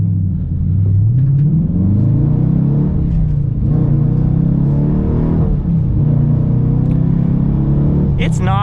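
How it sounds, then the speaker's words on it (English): A 2022 Dodge Challenger R/T with a manual gearbox accelerates hard in sport mode, its V8 exhaust rumbling loudly and rising through revs with a shift break, while someone talks over it. "So doing another acceleration now in sport mode just sharpens things up just a little bit."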